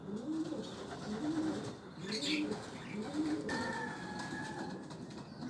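Pigeons perched on a small shrub coo in a steady repeating rhythm, several soft calls in a row at moderate distance, with a few faint higher chirps and some background noise.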